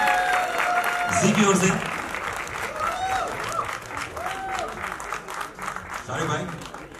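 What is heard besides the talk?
audience applause at film trailer launch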